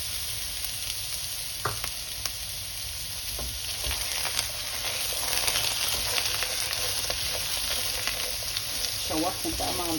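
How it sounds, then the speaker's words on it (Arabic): Onions sizzling in a pan with potatoes, a steady close frying hiss with occasional stirring scrapes and clinks. "شوحهم بقى مع البطاطس."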